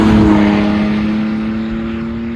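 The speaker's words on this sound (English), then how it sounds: "Here is a drive-by without the muffler." A 1999 BMW E39 523i with the muffler removed passes by, its raw exhaust droning loud and steady, then easing slightly as it moves away.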